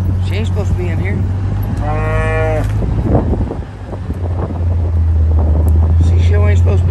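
Black beef cows in a pen moo loudly and close by, one long drawn-out low call standing out and another starting near the end, with wind buffeting the microphone and someone talking around them.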